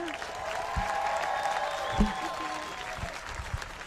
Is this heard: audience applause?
yes